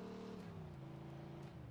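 A car driven in the video game Mafia II, its engine humming steadily with a slight pitch drop, faint and brief.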